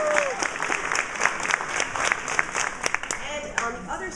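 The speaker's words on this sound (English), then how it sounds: "So let's give them a big round of applause." A large audience applauds the alto sax players of a band, a dense, even wash of clapping that holds for the whole stretch with a few voices calling out over it.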